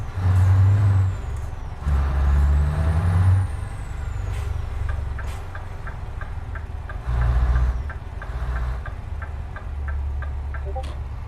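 Truck air brakes in Euro Truck Simulator 2 releasing repeated loud hissing bursts over a deep idling engine rumble, with a regular ticking indicator running through the middle stretch.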